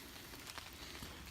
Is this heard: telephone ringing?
no